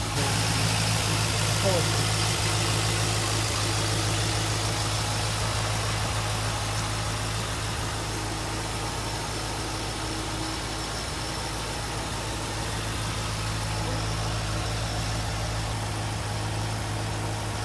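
A 2004 Chevrolet Corvette C5 with its 5.7 liter V8 idling steadily, a continuous low engine hum at an even level throughout, with a person talking over it.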